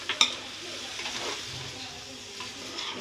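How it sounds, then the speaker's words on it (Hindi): Bottle gourd (lauki) being stirred in a frying pan, with a soft scraping and light sizzle, a sharp clink near the start, close and fairly quiet. "अब हम इसे अच्छे से मिक्स कर लेंगे फ्रेंड"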